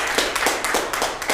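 A church congregation applauds for about a second and a half, a steady patter of hand claps with soft rhythmic swells and no voices over it.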